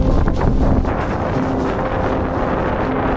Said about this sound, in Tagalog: Malakas na yung ulan, malakas pa yung hangin.